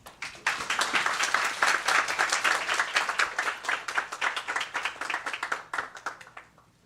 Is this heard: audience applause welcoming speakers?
yes